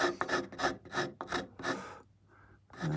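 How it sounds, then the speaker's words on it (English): A rasp is drawn gently back and forth over a wooden guitar neck during preliminary shaping, with about six close, even scraping strokes in a steady rhythm, then a brief pause before another stroke begins. "Put almost no pressure on the rasp, just let it rest and just move it backwards and forwards gently."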